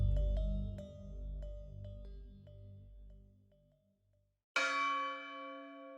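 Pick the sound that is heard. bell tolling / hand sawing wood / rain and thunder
bell tolling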